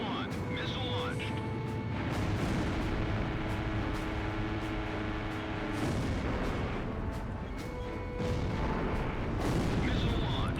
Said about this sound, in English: Column 1, missile launched.